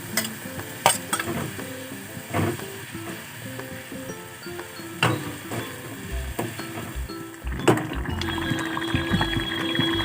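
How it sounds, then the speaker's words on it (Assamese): A pineapple and fish curry cooks in a pot after the fish goes in, giving a steady bubbling sizzle broken by several sharp clinks and stirring knocks, with a faint high tone near the end. "আঞ্জাখন উতলিব ধৰিছে। উতলিব ধৰোঁতে মই মাছখিনি দি দিলোঁ।"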